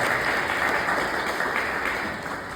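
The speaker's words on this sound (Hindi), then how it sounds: "तालियां बजाकर फादर को धन्यवाद दें।" A crowd applauds steadily, a dense wash of clapping that holds at an even level throughout and tapers slightly at the end.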